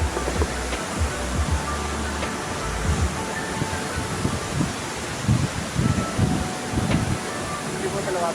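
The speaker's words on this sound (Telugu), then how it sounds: "ఎత్తిపోతల వాటర్ ఫాల్స్ వరకు వచ్చేసాం." The Ethipothala waterfalls roar as a broad, continuous rush of falling water, buffeted by wind noise, while a voice talks intermittently over the steady wash.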